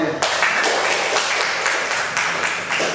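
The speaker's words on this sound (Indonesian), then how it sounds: "Kasih tepuk tangan dulu untuk Bu Maria" A high-school classroom claps for a teacher after a poetry lesson, a loud close burst of many hands clapping steadily throughout.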